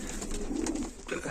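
Domestic pigeons, including desi and border-cross birds, cooing steadily in a loft at close range, a low continuous burbling with no talk.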